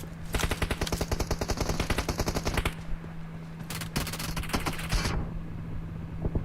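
Rapid automatic gunfire in PUBG Mobile, long dense bursts of close, sharp shots with a short pause, then another burst and scattered shots, no talk over it.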